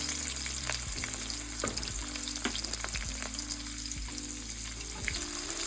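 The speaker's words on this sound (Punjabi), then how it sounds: "ਜਿੰਨੀ ਦੇਰ ਇਹ ਮਸਾਲਾ ਆਪਾਂ ਭੁੰਨਦੇ ਰਹਾਂਗੇ" Coarsely chopped garlic and ginger frying in a pan for paneer lababdar, a steady close sizzle with occasional stirring scrapes, quiet and without voices.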